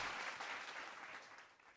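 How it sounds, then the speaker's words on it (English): Steady applause from a studio crowd for a radio show caller, a dense even patter of clapping that holds throughout and tapers slightly at the end. "Can we get an applause for the first female?"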